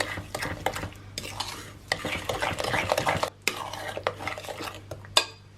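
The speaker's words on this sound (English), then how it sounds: "we'll just give those ingredients a mix through to get incorporated together" Almond flour, sugar and a pinch of salt are stirred in a bowl for banana bread, making close, steady scraping and tapping of a utensil against the bowl with short pauses between strokes.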